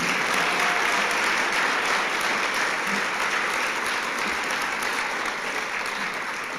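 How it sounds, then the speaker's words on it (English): A big room of people at a service dog graduation claps for a dog-and-handler team, a thick, continuous wash of applause that stays loud and even, fading only slightly near the end. "How about a big round of applause for that team?"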